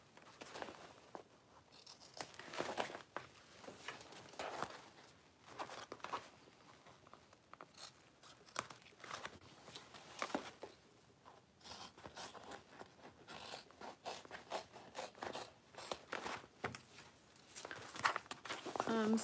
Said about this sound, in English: So I'm just going to kind of trim up the corners of this bag.